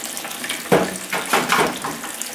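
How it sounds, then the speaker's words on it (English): Tap water runs into a container being filled with soapy washing-up water for cleaning a paintbrush, a steady close rushing with a few louder splashing surges and no talk. "Now let the water come in there."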